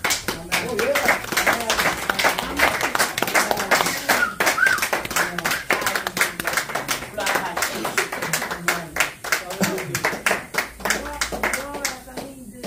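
A church congregation claps together in steady, continuous rhythm for Jesus, close and busy throughout, with some voices underneath.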